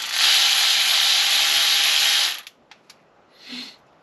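A worn tool works on an injector hose clamp on a Volvo 164e, giving a loud, steady rasping whirr for about two seconds, then a few small clicks and a brief softer burst, close by.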